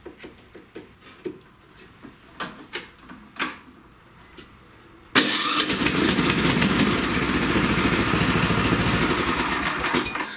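Snowblower with a newly repaired electric starter gear: several scattered clicks and taps come first, then the engine catches abruptly and keeps running loudly and steadily with a rapid mechanical patter.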